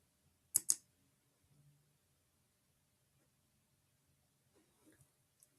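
A computer mouse gives two sharp, close clicks in quick succession, followed by quiet with faint small handling noises and a soft later tap.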